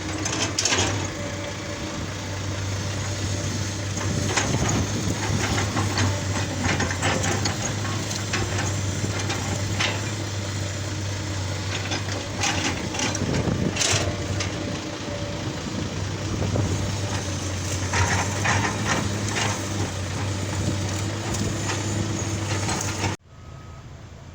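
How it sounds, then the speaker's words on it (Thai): A backhoe engine cutting a new dirt road, droning at a steady, fairly close level with a constant low hum and rattling, then cutting off abruptly near the end. "รถแบคโฮก็ทำทางเกือบทุกเที่ยวเลยครับ"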